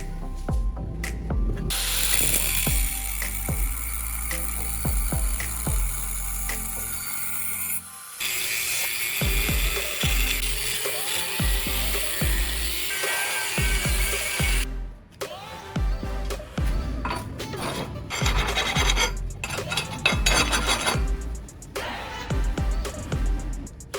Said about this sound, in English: The first step is cutting a U-shaped metal bar into a 25 cm piece.